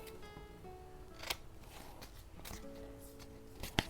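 Scissors snip the edges of paper while making junk-journal tags, a few sharp close cuts with soft paper rustling between them, quiet and alone.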